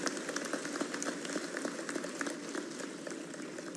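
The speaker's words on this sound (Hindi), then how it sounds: "आज जरा जोर से ताली बजाओ," An audience claps in a dense, continuous patter at a Madhya Pradesh Foundation Day awards ceremony, heard from a moderate distance with an even level throughout.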